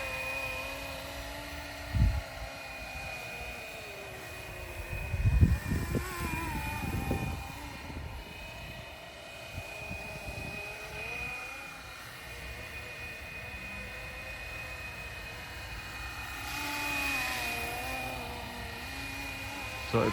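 A Flywing Bell 206 V4 RC helicopter flies and banks with a steady high-pitched motor whine throughout. A few thumps sound along the way, and the electric drone swells and fades as it turns.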